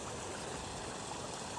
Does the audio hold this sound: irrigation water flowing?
yes